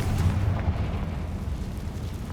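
Confringo spell explosion in Hogwarts Legacy, a low rumbling burst that rolls on and slowly fades, moderately loud with no talk over it.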